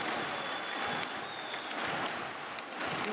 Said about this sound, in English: Crowd getting involved.